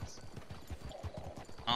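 Horse hooves clip-clop in a video game, in a steady, even rhythm of close, fairly loud hoofbeats, with a sharper noise right at the end.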